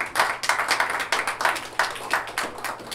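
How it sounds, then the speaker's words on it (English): Scattered clapping from a small group honoring Trinidad and Tobago's Rio 2016 Olympic team, a series of uneven, moderately loud hand claps with a light rhythm and no talk. "So let's give them a round of applause for that."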